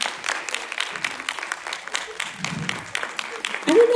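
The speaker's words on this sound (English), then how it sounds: "Can we please give the panelists and our moderators a round of applause?" Brief applause from an audience for panelists and moderators at a panel discussion, a scattered patter of clapping throughout, with a voice cutting in near the end.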